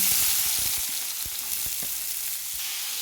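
Onion pieces fry in hot oil alongside green chilies, giving a steady, hissing sizzle with small pops and a few soft stirring knocks, close and unbroken by speech.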